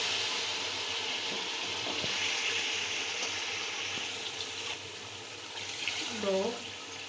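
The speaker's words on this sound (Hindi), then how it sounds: "अब मैं यखनी इसमें डालने लगी हूँ" Mutton stock (yakhni) is poured into fried masala in a cooking pot, giving a loud steady sizzle and splash that slowly fades. A brief voice comes in near the end.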